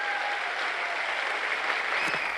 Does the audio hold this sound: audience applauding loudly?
yes